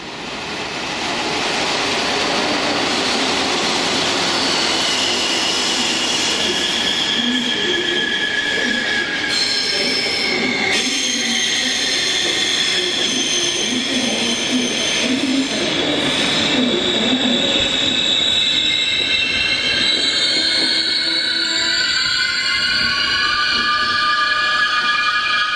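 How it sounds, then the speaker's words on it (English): A locomotive-hauled passenger train, class 218 diesels 218321 and 218307 on the Westerland to Göttingen service, arrives with loud sustained rumble, rising metallic wheel squeal and a few clattering beats, close by and continuous. "In the opposite direction, we see 218321 and 307 arriving with the 1156 Westerland to Göttingen."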